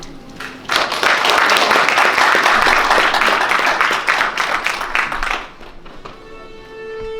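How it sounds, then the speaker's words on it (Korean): Audience applause at a Korean award ceremony as presenters are invited onstage, a dense burst of clapping that swells after a quiet start, then fades with a lingering tone at the end. "여러분 큰 박수 부탁드리겠습니다."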